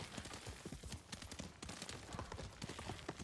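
Rapid clip-clop of horse hooves in the video game Ghost of Tsushima, a steady galloping rhythm, close and fairly loud, with no voices.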